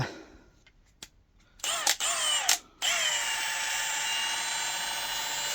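A power tool whirs in short bursts and then runs steadily while taking a nut off during a van build, loud and close, with brief pauses between the first spins.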